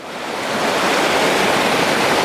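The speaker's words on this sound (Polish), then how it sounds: "Są takie dwa właśnie miejsca, gdzie jest rwąca woda." Rushing water of a mountain waterfall on the climb to Taillon peak, high in the mountains, pours as a loud, continuous broadband roar that swells slightly at first and then holds steady.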